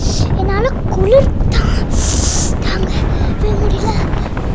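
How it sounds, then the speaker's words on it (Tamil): Strong wind blows across an open lawn in Kodaikanal, a loud, steady broadband rush that buffets the microphone throughout, with scattered brief vocal sounds mixed in. "காற்று செம்மையாக அடிச்சிச்சு."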